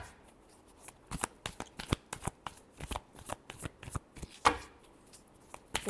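Tarot cards shuffled by hand in a steady run of crisp riffling bursts and soft slaps, close and clear with no talk over them.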